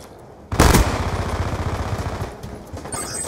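Video game pistol gunfire in a multiplayer shooter, a sudden loud burst of rapid shots that kicks in after a quiet moment and keeps rattling on as dense continuous firing.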